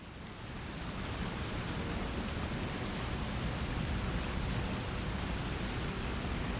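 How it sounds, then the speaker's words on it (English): Large waterfall in World of Warcraft rushing steadily, a dense, even roar of falling water that holds at constant loudness with no other sounds. "there's a big old waterfall there"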